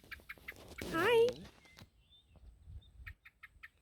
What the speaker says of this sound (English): We are being greeted by birds.